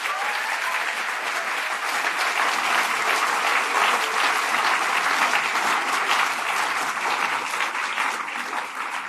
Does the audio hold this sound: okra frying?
no